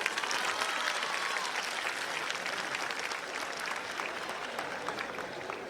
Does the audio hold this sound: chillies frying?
no